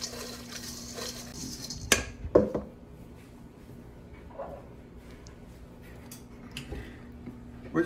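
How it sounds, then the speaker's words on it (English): A utensil clatters and scrapes against a bowl while apple crisp ingredients are mixed, with a few sharp clinks early on and softer stirring after, all close by. "So got everything in the bowl and we're just gonna mix it up."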